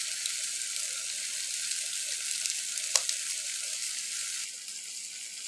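Tomato, onion and Maggi masala powder sauté in a pan with a soft, even sizzle, one sharp utensil click midway, and a slightly quieter sizzle at the close.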